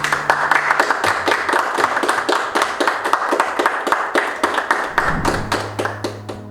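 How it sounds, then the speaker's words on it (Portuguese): Steady rhythmic clapping from a gathered crowd at a tribute ceremony honoring a teacher, even beats of hands continuing throughout, with a low sustained tone entering near the end. "Palmas"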